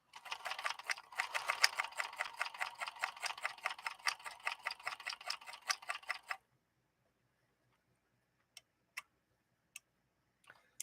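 A 1958 Singer 222K sewing machine stitches leather in a fast, steady run of close ticking needle strokes for about six seconds, then stops, leaving a few isolated clicks in near silence.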